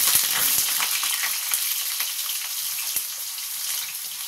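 Potatoes frying in hot oil in a home kitchen, giving a loud, continuous hiss and crackle with a few sharper pops early on, heard alone without talk.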